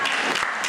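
An audience bursts into brief, dense clapping during a county board of supervisors meeting, loud and close with no speech over it.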